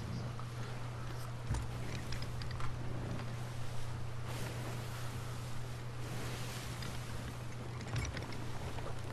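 Pirate ship sailing in the video game Sea of Thieves, a low steady rush of water and wind against the hull with a constant hum and faint creaks, fairly quiet throughout.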